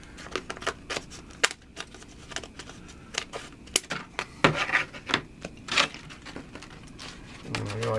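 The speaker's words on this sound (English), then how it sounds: "with my scissors, I'm going to cut" A series of sharp, quiet snips and rustles from scissors cutting a straight edge in material for an O-scale model railway tunnel, irregular in rhythm, close by.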